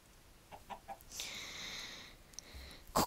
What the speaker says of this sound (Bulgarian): Кокошките са.